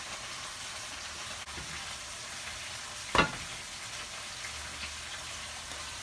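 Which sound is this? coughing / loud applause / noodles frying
noodles frying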